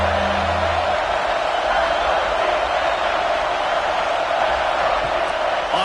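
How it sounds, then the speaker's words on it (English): A home crowd roars in a packed college football stadium during a Duke versus Utah game, a dense, steady wall of cheering and whooping that holds loud throughout with no pauses. "Man, this crowd really affecting the football game."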